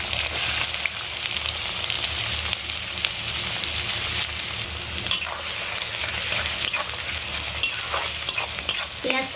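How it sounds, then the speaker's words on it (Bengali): Chopped onion sizzles loudly and steadily in hot mustard oil with cardamom and cinnamon, a dense crackling fry for chicken biryani with occasional stirring clicks throughout. "কুচিয়ে রাখা পেঁয়াজটা দিয়ে দেবো।"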